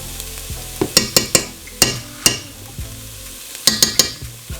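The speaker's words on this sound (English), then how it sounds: "Now I've added the onion to the pan, and next I'm going to be adding a scoop of the garlic." Onion and garlic sautéing in a pan for a ground beef picadillo, a steady close sizzle broken by several sharp utensil clacks and scrapes against the pan, with no talking.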